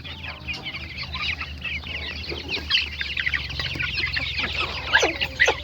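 Forty-day-old chicks and young chickens let outside cluck and peep in quick overlapping bursts, fairly close, over a low steady background hum, with no talk.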